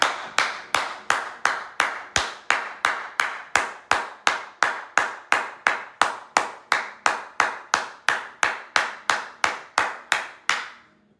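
A single person claps steadily, roughly two sharp hand claps per second for about eleven seconds. Each clap is crisp and close with an even rhythm, there are no voices, and the clapping stops abruptly at the end.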